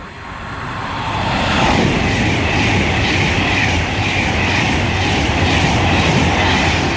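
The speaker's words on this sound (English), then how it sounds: "next train approaching is going to be a Virgin Trains Pendolino bound for Liverpool Lime Street again" A Virgin Trains Pendolino on the West Coast Main Line at Hartford approaches and rushes past, its roar swelling over the first two seconds into a loud, sustained rumble with rhythmic wheel clatter.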